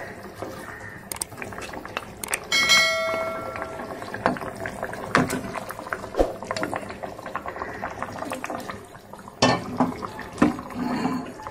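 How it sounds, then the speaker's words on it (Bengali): Katla fish pieces dropped one by one into a mustard and poppy seed gravy at a rolling boil in a home kitchen, with steady loud bubbling and a few sharper splashes and clatters. "ঝোলটা ফুটে গেছে, এবারে মাছগুলো আমি একে একে দিয়ে দিচ্ছি।"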